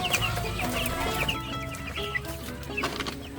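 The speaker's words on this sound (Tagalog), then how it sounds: "pinakuha ko lang po si Kuya Clark ng tubig para mainumin ng mga manok." Chickens cluck steadily while drinking water, several birds producing overlapping short clucks and soft calls close by, a busy continuous flock chatter with no talk.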